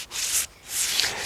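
Dry, raspy rubbing of a rough Cordia ovalis leaf against a wooden walking stick, two close scraping strokes with a short gap between them.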